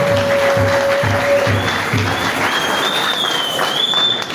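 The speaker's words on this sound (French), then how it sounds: "que je vous demande d'applaudir fortement" Loud sustained applause from a crowd in a hall at a political gathering, dense and steady throughout, with a rhythmic low thumping beneath it and a faint tonal whine drifting above.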